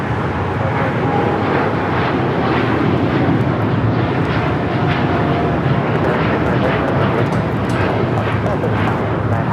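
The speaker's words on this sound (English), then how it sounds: "This is Japan Airlines Flight 69 taking off to Osaka on the 787-9 Dreamliner." Japan Airlines Boeing 787-9 Dreamliner taking off at LAX, a loud steady jet engine roar that holds broad and constant throughout, with radio or voices talking over it.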